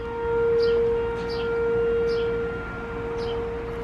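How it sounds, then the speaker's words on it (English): Outdoor storm warning siren sounding across an open area, a steady sustained wail with slow swells in loudness, fairly distant and alone without talk. "if they have the siren going like that"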